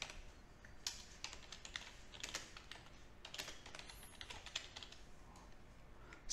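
Rapid, light keystrokes on a computer keyboard while a keyboard shortcut is set in Outlook, a quiet run of irregular clicks with no voices.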